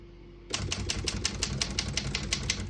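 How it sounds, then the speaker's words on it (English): A Royal KHM vintage desktop typewriter being typed on: a fast, steady run of crisp key strikes starts after a brief quiet moment, close and clear, with no voices. "all the keys type nice and none of them skip or stick"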